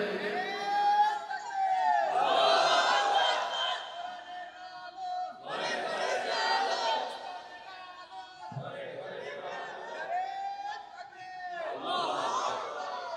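A crowd of men at a Bangla Islamic sermon gathering in Chattogram shouts takbir in loud, repeated collective bursts, rising and falling in waves with brief pauses between chants.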